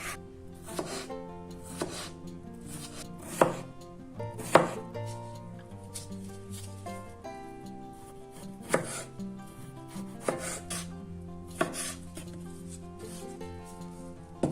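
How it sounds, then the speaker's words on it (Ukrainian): Knife chopping a peeled cucumber into thin matchstick strips on a board for a lavash appetizer, with a steady run of crisp, close cuts and a few louder thumps, no voices. "Очищаємо один огірок та нарізаємо його соломкою."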